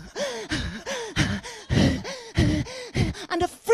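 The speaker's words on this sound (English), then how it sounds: "Then she's ready for her Wim Hof breathing." A person performs Wim Hof style breathing as a comedy skit bit: a rapid run of about ten loud, voiced gasping breaths in a steady rhythm, close up, with no talk.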